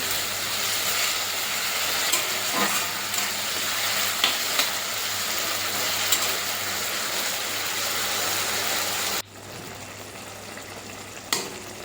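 Small mola fish curry with potatoes simmering in a pan after water is added: a loud, steady bubbling sizzle that cuts off abruptly near the end, leaving a quieter background with one brief clatter. No one speaks.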